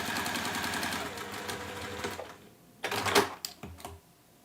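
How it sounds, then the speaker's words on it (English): A sewing machine runs steadily through fabric for about two seconds while a purse is made from ribbon and felt, then stops; a few short clicks and handling knocks follow at close range. "Sometimes I just sew off the edge and then realign it."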